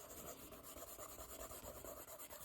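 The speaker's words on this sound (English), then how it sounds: "So I'm just adding shading where he's sitting." Pencil shading on paper while drawing a stuffed animal: a quiet, close, continuous scratchy rubbing in short repeated strokes, with no talking.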